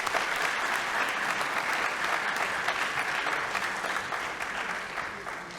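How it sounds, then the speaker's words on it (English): A lecture-hall audience at a talk on post-Cold War African democracy gives sustained, dense applause, loud and close, slowly tapering off toward the end. "Let's give all of them a loud applause."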